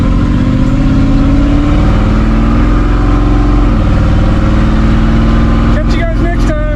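A 1957 car with a newly installed Holley carburetor pulls away and revs, a loud close-up engine drone with rising pitch, then a shift and a steady pull, ending with a few short higher-pitched noises.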